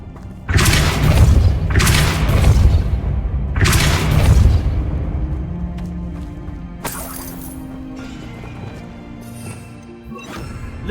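The Depulso spell goes off in the Hogwarts Legacy video game: three heavy booming blasts with crashing, shattering debris, followed by a quieter whoosh and lingering magical hum.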